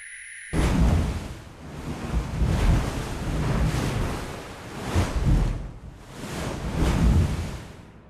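Atlantic Ocean waves surge and wash ashore in steady loud swells, each crest rising and receding, with wind buffeting the microphone and no voices.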